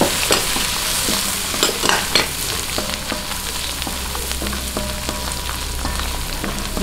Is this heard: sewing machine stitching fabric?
no